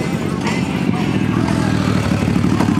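Many motorcycles rumble together before a bike week parade in 2020, a loud, close, continuous low engine drone with throbbing idle pulses and no pause.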